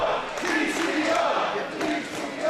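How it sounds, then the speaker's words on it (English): A wrestling crowd at a BLP event roars steadily, a dense wash of cheers and yells that holds loud and continuous throughout, with no clear single voice above it. "And listen to the crowd respond."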